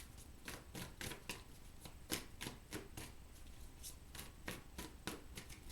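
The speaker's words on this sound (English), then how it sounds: "So let's get the 3-card spread. One more shuffle." A deck of tarot cards is shuffled by hand in a quiet room, a rapid series of soft riffling flutters and papery snaps repeating about twice per second, close and faint.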